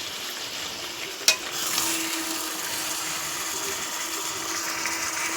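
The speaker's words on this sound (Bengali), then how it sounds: "এবার মাংসটাকে সুন্দর করে মিলিয়ে নেব" Meat fries in a pan while being stirred, a steady hiss of sizzling with one sharp clink near the start and a faint scrape of the spoon.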